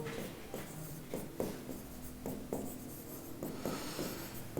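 Chalk writing a short chemistry formula on a board, a run of quick scratchy strokes and taps in an irregular rhythm, close and fairly clear, with no talking.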